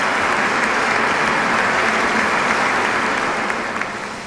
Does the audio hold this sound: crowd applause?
yes